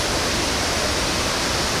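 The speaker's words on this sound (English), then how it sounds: "Okay, now we've got a nice close look at the waterfall." Ban Gioc waterfall on the Vietnam-China border roaring up close, a dense, steady, loud wash of falling water with no pauses throughout.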